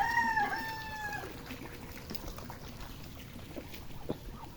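A rooster crows once at the start, a rising, drawn-out call, followed by scattered soft clucks and rustling from chickens nearby.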